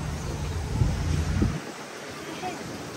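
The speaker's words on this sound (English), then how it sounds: "Cool little waterfall." Steady broadband rush of a small waterfall at an outdoor restaurant dining area in Thailand, heavier and fuller for the first second and a half, then thinner and more even, with no talk over it.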